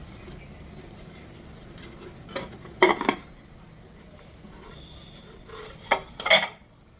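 Ragi manni, a soft set sweet, being tilted out onto a plate and cut, giving a few separate clinks and scrapes of metal utensils against the dish, close and fairly quiet, with pauses between.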